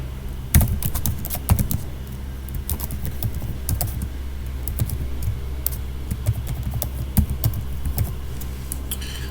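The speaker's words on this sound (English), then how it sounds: "I will open the Emacs editor to type" A computer keyboard is typed on steadily to write a Bash script in the Emacs editor, with close, uneven runs of key clicks and occasional louder strikes over a low background drone.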